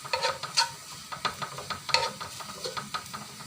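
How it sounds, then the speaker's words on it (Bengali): Browned onions fried in a pan being stirred and scooped out, a series of soft scraping, clinking utensil strokes over a faint sizzle, close and fairly quiet. "পেঁয়াজগুলো লাল লাল করে ভাজা আমার হয়ে গেছে। এখন এটাকে আমি তুলে নেব।"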